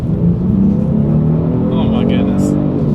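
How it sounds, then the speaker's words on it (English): A 2021 Genesis G70 with a twin-turbo V6 accelerates hard down a straightaway, its steady, loud engine drone filling the cabin from start to finish with a rising tone near the end. "Let's do a quick little acceleration test"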